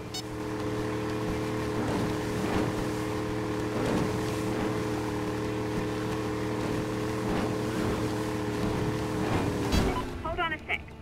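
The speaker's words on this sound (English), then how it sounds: "Pilot your boat right between them" A video game motorboat engine drones steadily with a low, constant hum and rhythmic thumping, running for several seconds before tailing off.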